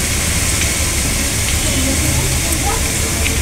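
Rice added to a pot with fried onions for biryani, sizzling and frying as a loud, continuous hiss throughout with no talk.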